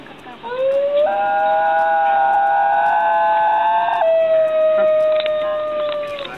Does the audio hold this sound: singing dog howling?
yes